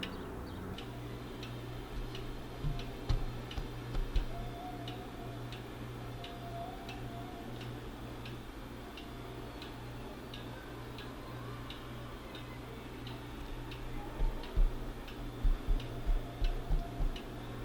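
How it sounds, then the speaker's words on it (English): A skeleton clock with an exposed skeleton frame and swinging pendulum ticks in a steady, even rhythm, close and fairly quiet, with a low steady hum underneath and a few soft knocks near the start and end. "Skeleton clock, skeleton frame."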